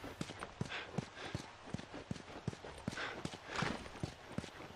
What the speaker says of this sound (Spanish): Creo que el caballito se va a tener que quedar